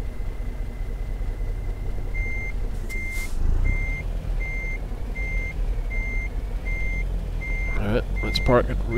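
A truck backs a trailer into place in American Truck Simulator, its reversing beeper chirping in an even, repeating rhythm over a low engine rumble, with a couple of sharper hissy bursts near the end.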